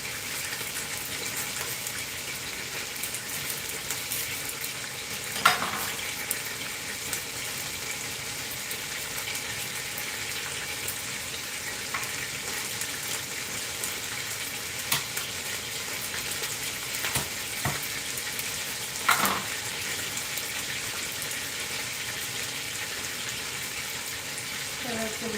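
Garlic cloves sizzle in an Instant Pot while a pot roast is prepared, a steady, close frying hiss running throughout with a couple of brief clatters.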